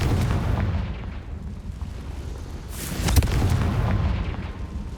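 Confringo fire spell explosion in the Hogwarts Legacy video game, a loud booming burst with a sharp crackling peak in the middle over continuous rumbling battle noise.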